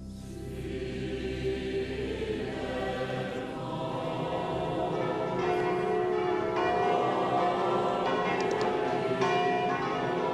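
Church bells ring at midnight in Bethlehem to mark Christmas, layered tones overlapping and swelling slightly, with a resonant, reverberant sound and no voices.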